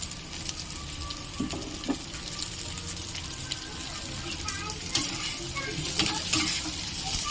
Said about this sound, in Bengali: খুব ভালো করে ভেজে নেব পেঁয়াজটা এর সাথে, আর তার সাথে দিয়ে দেবো এই ক্যাপসিকাম কুচি